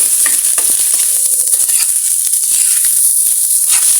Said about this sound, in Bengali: ডিমটা দিয়ে সঙ্গে মিশিয়ে আর একটু ভালো করে ভেজে নেব ডিমটা